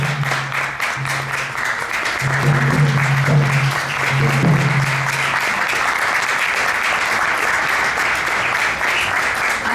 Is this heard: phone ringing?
no